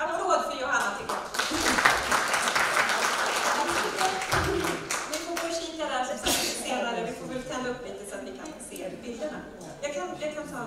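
Audience applause for a presenter at a Swedish seminar, clapping that rises under speech and chatter, mixed with voices and fading somewhat toward the end.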